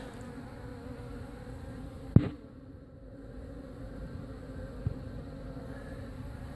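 Honeybees flying around the spot where a hive was removed from a mobile home in Lakeland, Florida, a soft continuous buzzing with a sharp tap partway through and another faint knock later, no speech.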